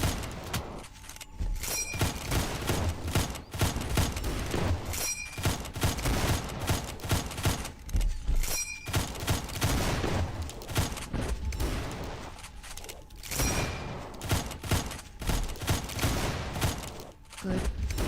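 Dense bursts of gunfire from a Doom engine video game crackle in rapid volleys throughout, loud and near, with someone talking over the shooting at points.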